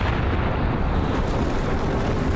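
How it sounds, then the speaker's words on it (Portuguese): A huge cosmic explosion meant to evoke the Big Bang, sustained as a dense, loud, rumbling roar with a deep low-end boom that fills the whole stretch without a break. "Em uma fração de segundo, o universo sofreu uma grande explosão que arremessou o espaço para fora."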